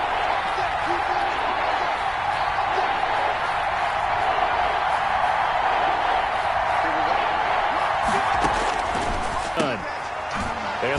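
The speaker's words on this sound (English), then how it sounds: "Crowd getting in it a bit already" A football stadium crowd in a Jaguars versus Eagles game roars steadily and loudly, a continuous dense wall of cheering that holds throughout.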